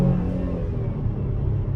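A 2021 Chevrolet Traverse, a big eight-passenger car, pulls at full throttle with a steady, low, close engine drone that holds level throughout the short burst.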